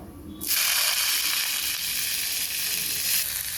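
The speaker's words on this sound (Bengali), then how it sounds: "অনেকগুলো রসুন থেতলে নিছি এটা ফোড়নে দেব নেড়ে চেড়ে উপরে কালো জিরে দিয়ে দিলাম" Crushed garlic and black cumin (kalonji) hit hot oil for a tempering, the sizzle bursting in loud and close after a quiet start and holding as a steady hiss to the end.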